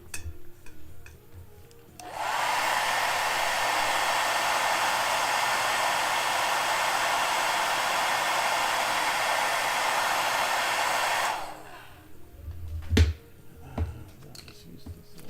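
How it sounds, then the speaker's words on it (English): A hair dryer blows on a painted miniature, a loud steady whoosh that starts abruptly, runs for about nine seconds, and cuts off, followed by quiet handling clicks and taps. "Let me hit him with a hairdryer real quick."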